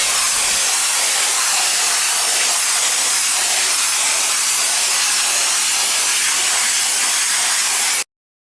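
A loud, steady hiss from a two-component polyurethane foam spray gun runs for about eight seconds without pause, then cuts off abruptly into silence.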